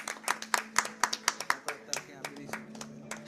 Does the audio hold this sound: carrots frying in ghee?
no